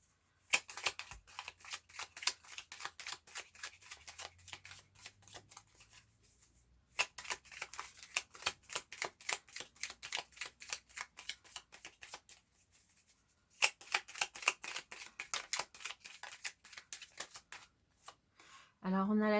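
Tarot cards are riffled and shuffled in quick, crisp flurries of flicking taps, with short pauses between bursts, close to the listener.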